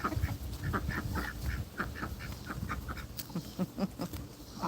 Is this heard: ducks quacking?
yes